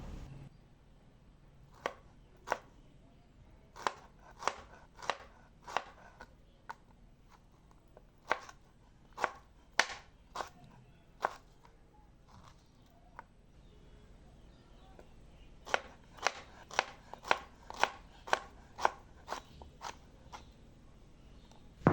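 A knife cuts ripe mango into thin slices on a board, making a run of crisp, close, evenly spaced taps, sparse at first and then quick and clustered, with quiet pauses in between.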